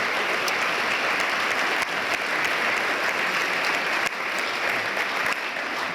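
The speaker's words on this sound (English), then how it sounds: "Let's give everyone a round of applause before we get started." Steady audience applause fills a hall at a national veterans' convening, a dense, sustained wash of many hands clapping at a constant level with no voices standing out.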